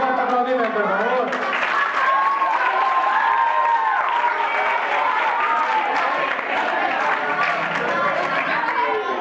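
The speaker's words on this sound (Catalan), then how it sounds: "Un fort aplaudiment, per favor." Crowd applause and cheering from an audience at a summer camp Lion King musical performance, sustained and dense throughout, with excited voices and chatter mixed into the clapping.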